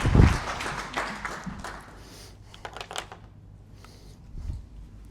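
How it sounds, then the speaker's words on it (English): A short burst of clapping from a small group starts strong, then thins into scattered claps and rustling. "Give yourselves a round of applause."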